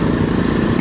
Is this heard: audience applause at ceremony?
no